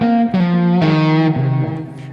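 Electric guitar played with distorted overdrive, digital delay and reverb, sustained loud notes sliding between pitches with echoing tails.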